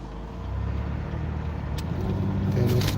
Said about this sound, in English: You can hear all these cars too.